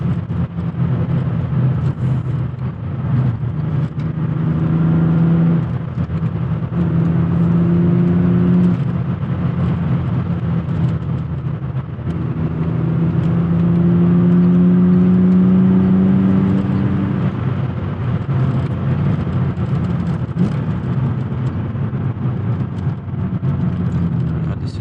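A BMW E36 323i engine drones loudly from inside the car on a bumpy, winding road, rising and falling in pitch as it revs and pulls through corners, with no talk over it.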